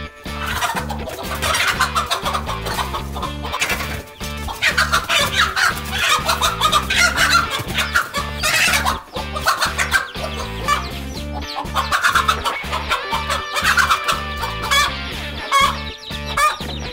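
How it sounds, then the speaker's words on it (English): Mother chicken clucking loudly and insistently while fighting off a king cobra, a dense, agitated run of clucks and squawks close by, with continuous rhythmic sound in the background. "a hungry king cobra tried to sneak up on a mother chicken and her chicks"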